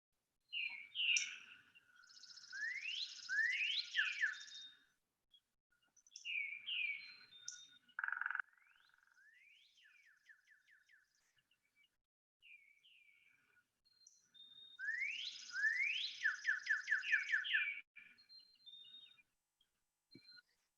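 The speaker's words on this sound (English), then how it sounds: "They recorded 4 minutes of bird calls, and it's just incredible." Many wild birds calling and singing outdoors at a campsite in the morning: bright chirps, whistles and rapid trilled phrases in bursts, some near and some farther off, with quiet gaps between them.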